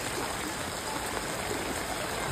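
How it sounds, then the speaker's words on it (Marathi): Floodwater from an overflowing drain rushes into a village lane after heavy rain, a steady, dense watery roar that fills the whole clip without break. "इकडे बघा किती फ्लो आहे पाण्याला."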